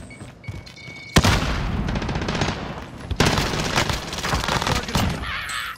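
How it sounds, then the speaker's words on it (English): A frag grenade blast and gunfire in Call of Duty on Rebirth Island: a sharp loud explosion, then sustained rapid gunfire, a second heavy burst and more firing trailing off, all close and harsh. "Throwing frag."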